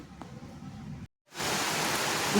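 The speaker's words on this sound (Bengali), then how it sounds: "দেখুন কিভাবে বৃষ্টি হচ্ছে পুরো অন্ধকার হয়ে বৃষ্টি হচ্ছে" Heavy rain falling outside on a dark day, a dense steady hiss that cuts out briefly and then returns louder and fuller, with no talking.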